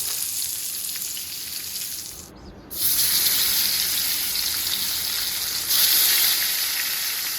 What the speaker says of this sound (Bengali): তো আগে মাছগুলো একটু ভালোভাবে ভেজে নিই।